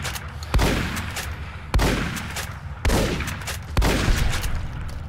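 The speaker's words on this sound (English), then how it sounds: "I know shotguns aren't meant for long range, but it's what I have" Four loud shotgun blasts in Fallout: New Vegas, evenly spaced about a second apart, each a sharp broadband crack with a rumbling tail that fades before the next shot.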